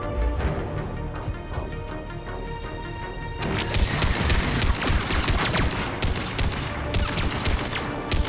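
Heavy automatic gunfire in a Mass Effect 3 Omega cutscene, with a dense, continuous, loud barrage that grows in intensity partway through and then keeps going with sharp repeated shots.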